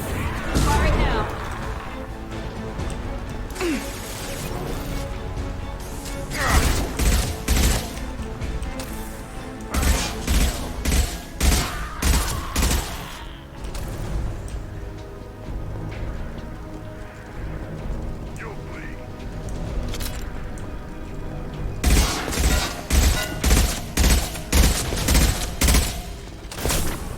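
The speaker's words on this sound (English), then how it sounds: "I like the sound it makes when you hit armor. Sounds like you're hitting a fry pan." Gunfire striking armor in the Mass Effect 2 video game, with bursts of sharp metallic impacts in rapid clusters, loud and repeated against a continuous game soundtrack and effects.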